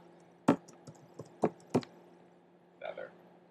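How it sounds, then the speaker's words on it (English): Several separate key taps on a computer keyboard, sparse and irregular, close but soft in a quiet room. "I'll just go ahead and type the word"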